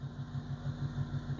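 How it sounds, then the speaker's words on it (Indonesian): A car's air-conditioning compressor makes a low, rhythmic snoring drone over a steady idling engine hum, with pulses repeating about every sixth of a second and no talking. "agak ngorok itu, ngorong itu suara kompresor AC."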